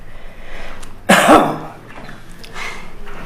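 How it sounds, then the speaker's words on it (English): A single hard, forceful cough bursts out, brief and close, against a quiet background with faint breathing. "Cough hard."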